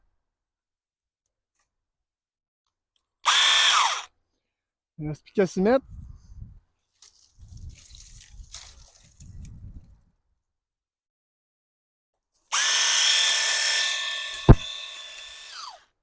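Two loud bursts of a small power saw whining as it cuts wood in a forest, the second longer, with someone talking in between.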